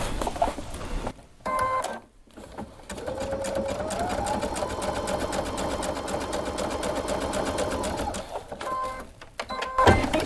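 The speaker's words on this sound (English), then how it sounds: "let's just sew our opening closed" A sewing machine stitches an opening closed, a steady fast mechanical whir running for several seconds with short stops and restarts at the beginning and end, close and clear.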